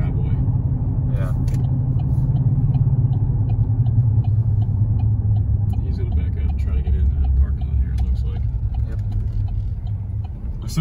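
A heavy truck rumbles past with a deep, steady low engine drone throughout, while people talk quietly over it.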